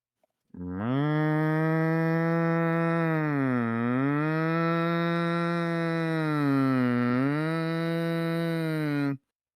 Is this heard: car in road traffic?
no